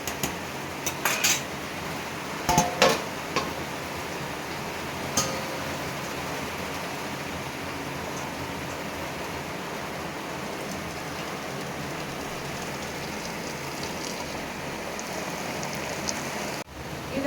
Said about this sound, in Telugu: ఇది బంద్ చేసి స్టవ్ కట్టేసి వంపు వేసుకుందాం గంజి వంపుకుందాం